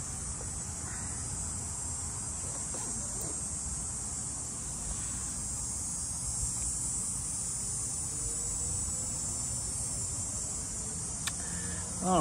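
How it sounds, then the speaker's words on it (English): Cicadas droning in summer heatwave on a Toronto street, a continuous high electric buzz held steady throughout, moderately loud over low traffic rumble. "I'm hearing one of those cicadas"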